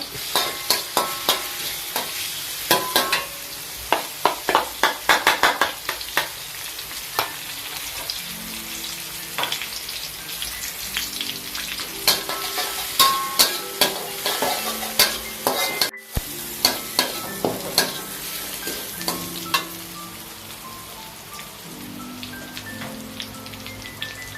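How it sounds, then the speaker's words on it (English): Broccoli, carrot, garlic and shallot stir frying in a pan, with a steady loud sizzle broken by frequent sharp clatters and scrapes of a utensil tossing the vegetables, no voices. "Now I'm going to stir fry broccoli and carrot. Stir fry the garlic and the shallot."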